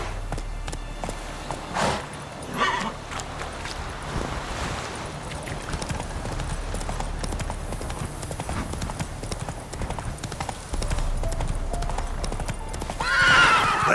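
Galloping horse in The Witcher 3 video game: rapid rhythmic hoofbeats drum continuously, with snorts and a whinny rising near the end, loud and close amid wind.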